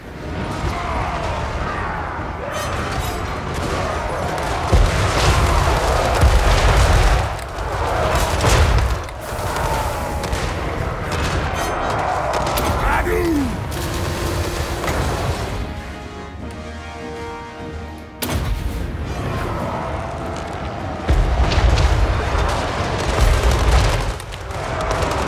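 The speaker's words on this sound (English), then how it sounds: "Cannons." Cannon fire in the Total War: Warhammer 3 video game, repeated heavy booms and blasts layered over continuous battle noise and music.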